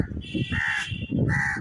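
A crow caws repeatedly from a rooftop, its harsh calls loud and close, coming in two sustained bursts with a short pause between.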